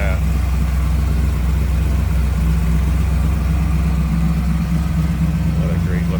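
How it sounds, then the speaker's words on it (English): A Hemi V8 with an aluminum radiator idles steadily in a 1939 Plymouth Business Coupe street rod, a loud, smooth, even rumble filling the clip from start to finish with a faint voice underneath. "show off that Hemi, aluminum radiator, and you can hear it is a smooth runner"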